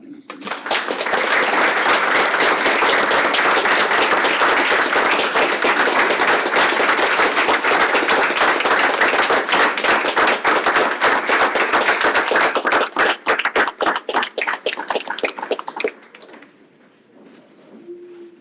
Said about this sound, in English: I think that applause would have kept going too